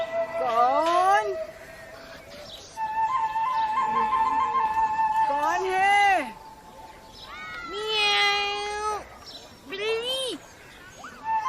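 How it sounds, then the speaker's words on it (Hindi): A house cat meows repeatedly up close, a series of drawn-out rising and falling cries with short gaps between them, while a person briefly speaks. "बिल्ली।"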